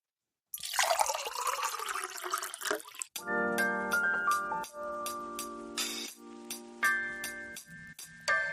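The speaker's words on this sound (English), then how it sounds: "Pour the coffee." Coffee poured into a cup, a close liquid stream for a few seconds, then a string of clear clinks and rings of cup and dish, with no talk.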